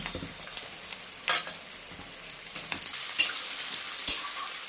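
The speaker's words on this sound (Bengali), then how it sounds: "এবার এর সাথে একটু আলুগুলো ভেজে নেব" Potatoes and onions fry in oil for a village-style mutton curry, giving a soft, steady sizzle broken by several louder bursts of stirring and scraping in the pan, close up and with no talk.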